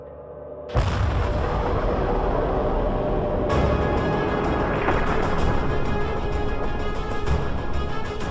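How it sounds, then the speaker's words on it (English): A deep, sustained rumbling boom stands in for a supernova explosion, starting abruptly after a quiet moment and holding loud and steady with a swelling roar throughout. "And that sets off the most dramatic explosion in the universe."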